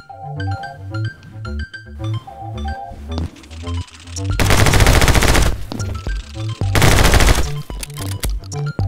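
Rapid SMG gunfire in the video game My Friend Pedro rips out in two loud sustained bursts over a thumping electronic music track with punchy beats.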